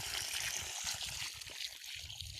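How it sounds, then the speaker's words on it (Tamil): A bucket of water is poured onto soil around a freshly planted coconut seedling, a steady splashing trickle with soft gurgles, close and continuous, no voices. "இப்போ நம்ம ஒரு பக்கெட் தண்ணி ஊற்றிக்கலாம்."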